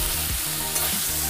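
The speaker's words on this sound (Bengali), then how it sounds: "শাকটা দিয়ে আমি খুব সুন্দর করে ভেজে নেব।" Boiled greens stir-fried in garlic oil give a steady close sizzle, with a couple of scraping stirs of the spatula across the pan.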